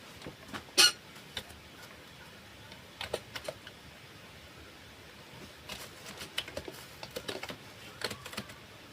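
Keystrokes on a computer keyboard as a username and password are entered at a login screen, a scattered run of soft, quiet clicks with one sharper burst early on, no talking over them.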